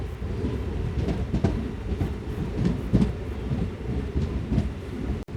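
A MEMU express train from Bhimavaram Junction to Machilipatnam arriving at Akividu station, a steady low rumble of wheels and carriages with faint clanks, heard close.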